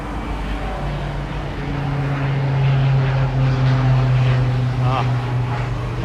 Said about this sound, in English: A Dornier aircraft.